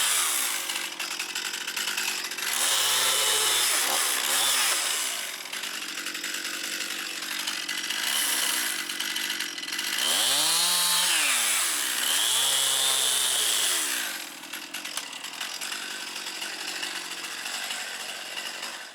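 A Stihl chainsaw cuts firewood from maple, cherry and locust logs, revving loud and close in two long bursts that bog down as the chain bites, idling between cuts.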